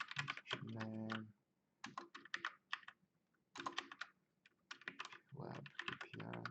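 Fingers rapidly tap the keys of a computer keyboard in quick clicking bursts while a person talks over the typing.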